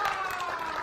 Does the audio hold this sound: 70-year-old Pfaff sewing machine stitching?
no